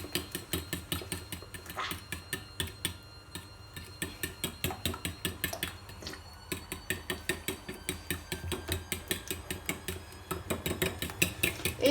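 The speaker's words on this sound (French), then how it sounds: "Et on mélange bien." Quiche filling of cream and eggs whisked briskly in a bowl, a fast steady rhythm of utensil clicks against the sides, loud and close with no talking.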